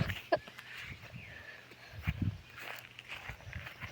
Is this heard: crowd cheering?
no